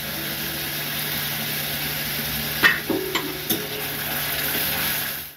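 Onion, garlic, ginger and green chili paste fries in a pan with a steady close sizzle, broken midway by a few short scraping stirs before the hiss continues alone.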